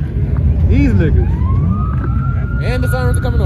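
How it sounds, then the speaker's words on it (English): A police siren wails with a rising and falling tone beneath loud outdoor rumble and people talking nearby. "And the sirens are coming on."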